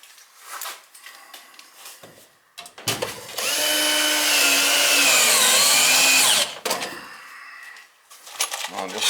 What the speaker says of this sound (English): I'll just screw the rest of it in really good all the way around.